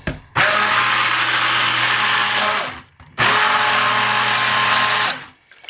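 A blender whirs through soap-making oils to mix in mica powder, running in two loud, steady bursts of about two and a half seconds each with a brief pause between, close and alone.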